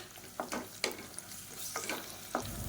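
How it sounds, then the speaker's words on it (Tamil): Ginger garlic paste fries with sautéed onions in a pan, a close steady sizzle broken by several sharp scraping stirs of a spoon against the metal. "இஞ்சி பூண்டு பேஸ்ட் நல்லா வதங்கிட்டு இருக்கு."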